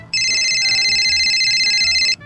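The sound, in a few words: phone ringtone ringing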